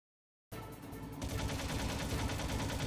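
Sustained gunfire in the video game Metal Gear Solid: a dense, continuous fusillade that starts abruptly after a half-second of silence and grows heavier, loud and unbroken, with no voices over it.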